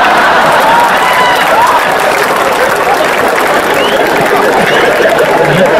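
Loud sustained audience applause at a Hindi comic poetry recital, a thick unbroken roar of clapping from a large crowd with murmured chatter mixed in.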